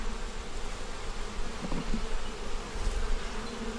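Honey bees buzz around a hive frame, a dense, steady droning hum that stays close and continuous throughout.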